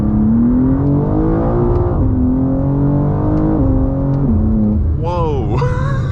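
A tuned BMW G87 M2 engine revs hard through rapid, aggressive gear shifts, its loud droning note climbing and dropping in pitch at each shift, with a sharper rising rev at the end, heard close from inside the car.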